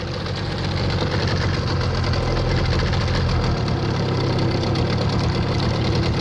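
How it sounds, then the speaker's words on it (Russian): Outboard motor on a Kazanka-type aluminum fishing boat running steadily at close range, a continuous loud droning engine hum with knocking rhythm throughout, no talk. "Мотор пока работает."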